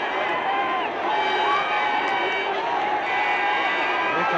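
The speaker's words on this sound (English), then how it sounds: "The crowd invade the pitch. It's just a sea of people." A cricket crowd invades the pitch at the 1973 England v West Indies Test, mobbing Boycott. A steady roar of running, shouting spectators fills the ground, with a commentator talking over it.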